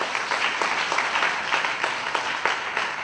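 Audience applause at a ceremony for a campaign against violence against women, honouring a young girl: sustained, dense clapping from a crowd, fairly close and steady throughout.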